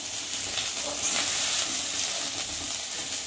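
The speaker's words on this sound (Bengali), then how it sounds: "দেখো আদাটা আর জিরেটা ভাজা ভাজা হয়ে গেছে" Ginger and cumin frying in a pan, a steady soft sizzle with faint stirring scrapes, close and continuous throughout with no voices.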